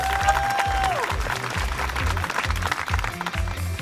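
An audience applauds a singer at the finale of a reality show, with crowd clapping blending under a loud, rhythmic music track with a thumping beat and sustained tones, all at a steady level.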